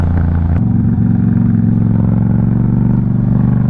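A Yamaha MT-07 motorcycle climbs uphill with its engine running loud and close, a steady droning roar with no talk over it.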